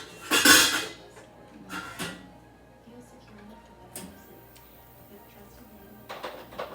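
Cooking pots clank and rattle in a home kitchen, with a loud clatter near the start followed by scattered knocks and scrapes against a low background hum.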